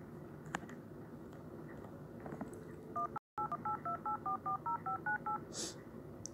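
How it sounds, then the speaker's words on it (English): A run of touch-tone phone dialing beeps in a Roblox hotel game, about a dozen evenly spaced tones following a brief dropout, heard over a steady murmur of background game noise. "Hurry, get the phone to call for help."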